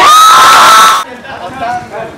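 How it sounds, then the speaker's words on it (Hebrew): Loud, close cheering and shouting from an audience at a Purim show by naval officer cadets in Acre, welcoming Moti Ronen. Whoops and yells are at full volume, then cut off abruptly, leaving quieter murmur and talk. "קבלו במחיאות כפיים את מוטי רונן"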